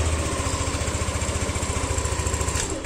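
A Yamaha NMAX scooter, fitted with a keyless smart key, starts and settles into a steady, close, pulsing idle that runs evenly throughout.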